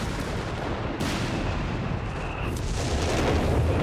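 Artillery bombardment in the World War II strategy game Company of Heroes 3, a continuous heavy rumble of distant shelling with booming impacts layered throughout, loud and steady with no talk.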